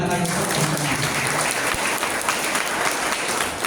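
An audience at an evening Islamic study gathering claps together, a loud, close, dense burst of applause sustained throughout with no talk over it.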